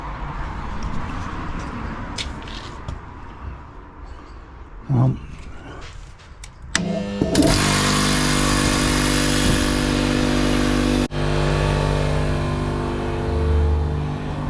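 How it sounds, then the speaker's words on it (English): An air compressor starts up on a garden building site and runs loud and close with a steady droning motor hum, briefly cutting out and resuming, after a stretch of quieter outdoor background noise. "move away from the noise of that compressor"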